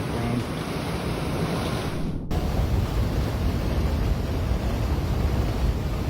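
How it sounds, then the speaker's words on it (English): Floodwater rushing through northern Arkansas after heavy rain, a loud, steady broadband roar of churning water that briefly dips and then surges back on, continuous throughout with no voices. "A strong rush of floodwater swept through northern Arkansas after heavy rain"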